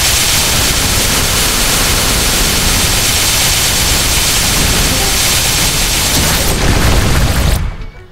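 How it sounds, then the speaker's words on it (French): Beam Dance skill effect of the Xenon class in MapleStory, a dense, loud, continuous blast of noisy crackling energy sustained for several seconds, swelling slightly near the end before cutting off abruptly into quiet. "L'effet du Beam Dance, c'est ça en fait."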